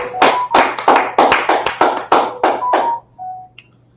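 Hands clap loudly in a steady run of about ten sharp claps, then stop, leaving a short faint tone and a quiet tail with no talking.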